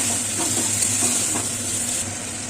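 Ginger and cumin paste with chilli powder sizzles in a pan for a potato dum aloo, a steady close hiss with soft rhythmic scraping from stirring.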